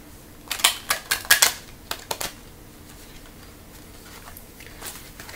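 Tarot cards shuffled by hand in a few quick, crisp riffling bursts close by, then a quiet stretch with faint rustling.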